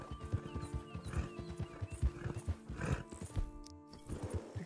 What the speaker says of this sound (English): it's a lot of fun to ride with, and it's a pretty horse